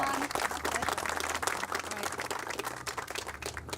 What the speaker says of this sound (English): I'd like to have a big round of applause